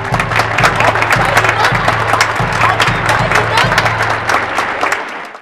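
Animated village crowd cheering and clapping with big drums beating, a loud dense wash of applause and shouts under a steady pounding rhythm that fades out at the end.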